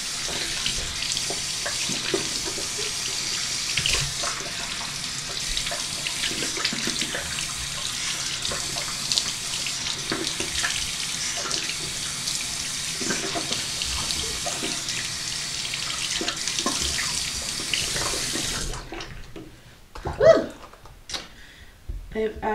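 Tap water running into a sink while rinsing a face, a steady splashing stream heard close up for most of the stretch, then shut off, leaving a few faint handling sounds.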